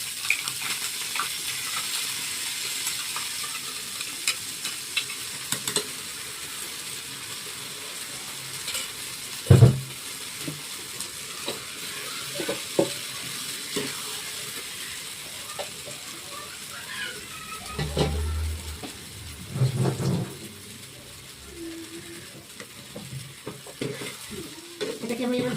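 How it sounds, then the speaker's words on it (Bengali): Spice paste stirred and fried in a pan, a soft steady sizzle with intermittent scraping and clacking strokes of the spoon, louder bursts near the end. "এটাকে আমি এবার ভালো করে কষাবো।"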